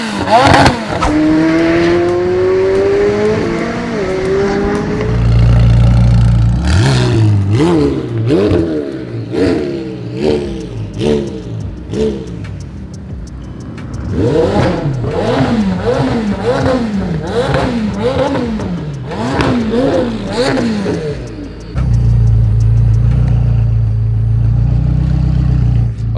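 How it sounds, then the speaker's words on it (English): A lowered 2018 McLaren 720S supercar with downpipes and a light tune revs hard again and again, loud and close, with sharp rising and falling engine sweeps and a deep rumble between bursts. "2018 McLaren 720S. It's lowered, downpipes, light tune."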